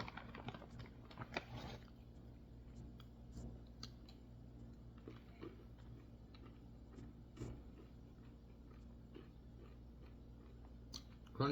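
Crunchy peanut M&M candy being chewed close up, faint irregular crisp crunches clustered early and then sparser, quiet overall with no talk.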